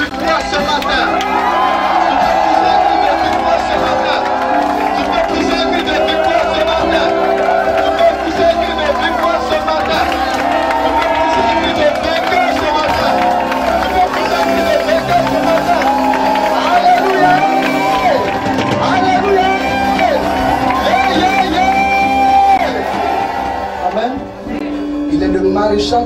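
A church congregation at a Sunday praise and worship service cheers and shouts in acclaim of Jesus, a loud, sustained crowd roar with whoops and voices over music, lasting throughout.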